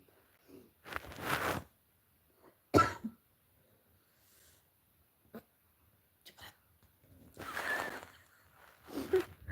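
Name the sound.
coughing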